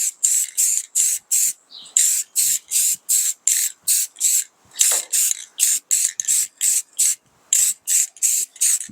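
An aerosol spray paint can hisses onto a Ford D-150 truck hood in repeated short bursts, about twenty even pulses close up with brief gaps between them.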